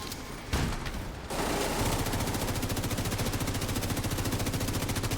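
Rapid automatic gunfire from a gun in The Division 2, a dense stream of evenly spaced shots after a brief burst of other noise, loud and continuous to the end.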